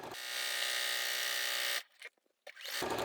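Sewing machine stitching around the outside edge of a fabric napkin, a steady close motor whir that cuts off, a few soft clicks, then resumes.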